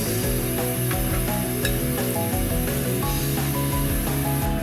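Salmon fillets frying in olive oil in a pan over medium heat, a steady close sizzle and hiss throughout with faint light clatter, no voices.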